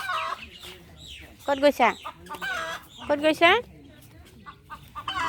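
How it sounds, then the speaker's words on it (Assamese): Chickens cluck and squawk in short loud bursts around a domestic yard as birds are chased off, with a person's voice speaking between the calls. "এই চৰাই এইটো খেদি গৈ আছে। উৰি গ'ল চৰাই, উৰি গ'ল।"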